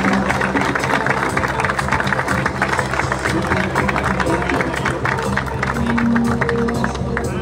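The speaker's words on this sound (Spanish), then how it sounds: "Que se escuchen esos aplausos" Crowd applause at a city anniversary parade in Río Primero, Argentina, greeting the Argentine Army parachute team, steady dense clapping mixed with murmuring and a running engine, with an announcer's voice over it throughout.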